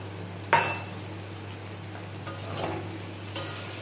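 Sour yogurt being stirred into kundri curry in a pan, a sharp utensil clank at the start followed by soft scraping and faint sizzle, a few gentle stirring strokes over a low hum, no voices.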